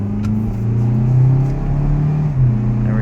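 A 2016 Mazda CX-3 Grand Touring AWD with automatic transmission revs steadily from inside the cabin, its engine drone climbing and dipping as it upshifts, a loud continuous hum with no talking.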